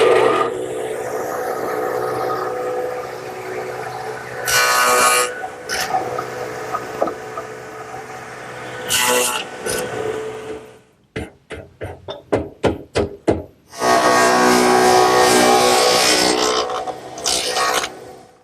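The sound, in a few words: radial arm saw with stacked dado head cutting lap joints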